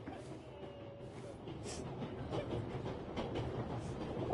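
A train rolls steadily on rails in the game Memories Retold, a low, rumbling, continuous rattle with faint clatter and hiss that grows slightly louder over time.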